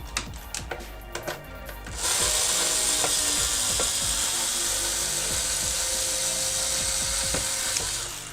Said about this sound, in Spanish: vamos a tener que quitar 6 tornillos